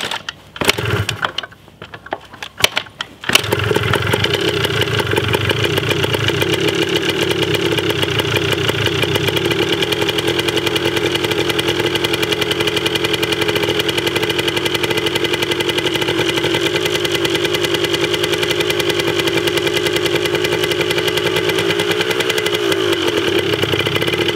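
Yamaha DT 125 enduro dirt bike's small engine idles after a few sputtering starts, then settles into a loud, steady, buzzing two-stroke drone close by that holds for over twenty seconds, no voices.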